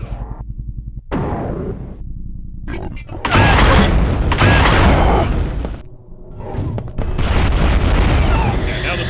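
Rocket launcher blasts in Quake II on the Nintendo 64, two deep booming explosions with long rumbling tails, loud and close, separated by a short dip, with a voice speaking over part of it.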